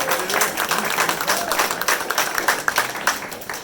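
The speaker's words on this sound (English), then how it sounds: "so a big applause, please, for San Francisco Rec and Parks Department" An audience applauds at the 20th anniversary exhibition opening reception at the Harvey Milk Center, with a steady, dense round of clapping from a crowd that lasts several seconds and then thins out.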